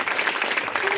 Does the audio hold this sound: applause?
yes